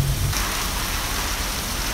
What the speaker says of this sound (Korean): 며칠 전부터 비 왔으면 좋겠다 정말 노래를 불렀는데 드디어 비가 오네.